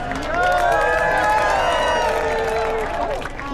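An outdoor crowd at a No Kings rally in Carlsbad, California cheers and whoops loudly, a dense roar of many voices with some clapping that swells and fades over a few seconds.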